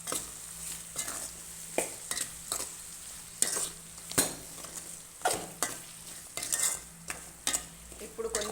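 Tomatoes with chili powder fry in a pan, a soft sizzle under repeated scraping strokes of a spoon that come in an uneven rhythm, close and fairly quiet.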